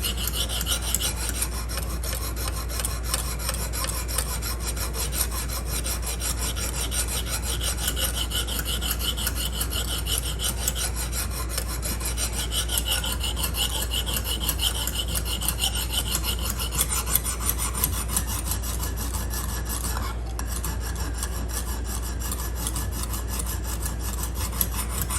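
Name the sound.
sharpening a knife with Lansky sharpening system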